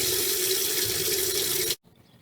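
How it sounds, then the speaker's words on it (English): Steady stream of water running from a faucet in a 2021 Bushwhacker Plus 15FK camper after filling the hot water tank, a constant rushing hiss that cuts off abruptly near the end. "so as you can see, we have a stream of water now"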